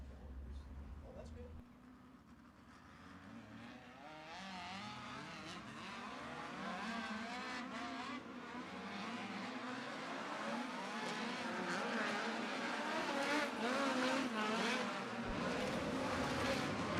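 USAC race cars at Placerville Speedway rev their engines in quick throttle bursts, a loud, continuous engine roar that builds and holds, with a voice faintly under it.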